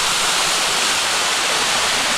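A waterfall near Yogyakarta roars loud and steady, a dense broadband rush of falling water with no break and no voices.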